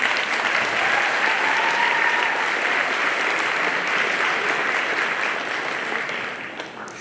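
An audience at a school recognition day ceremony gives sustained, dense applause for an award honoree; the clapping stays even and full for several seconds before thinning out at the end.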